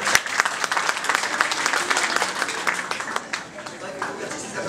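Audience applause fills a conference hall, dense, sustained clapping from a large crowd for nearly five seconds, steady and fairly loud with individual claps popping out of the wash.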